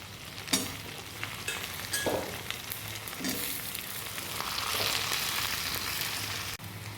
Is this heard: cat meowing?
no